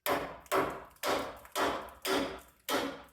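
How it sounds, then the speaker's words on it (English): Hammer strikes knock against a sway bar end link on a 1994 Chevy K1500 front suspension, six sharp, evenly spaced metallic blows about half a second apart, each ringing briefly before the next. "I'm gonna hit it with a hammer and see what happens"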